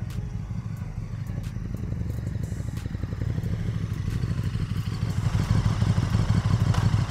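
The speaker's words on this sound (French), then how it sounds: "il va se garer devant nous. Et on va bien voir que la moto s'immobilise." A motorcycle rolls up close and comes to a stop to park in front, its engine rumble and mechanical clatter building steadily louder over several seconds with no talking.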